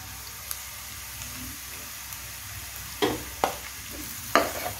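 Ginger, garlic and chopped green chillies fry in a pan for chicken fried rice, a faint steady sizzle with a few sharp scraping stirs near the end.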